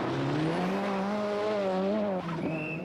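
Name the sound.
Ford RS Cosworth rally car driving on a stage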